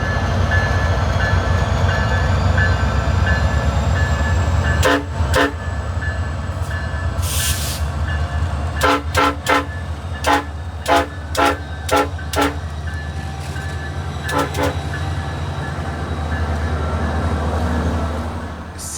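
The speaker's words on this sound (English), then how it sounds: "Got a nice little horn show from the engineer on P318." SunRail train with Nathan P5 locomotive horns passing close by, a rumbling engine under a series of short, repeated horn toots in an irregular pattern, loud and near.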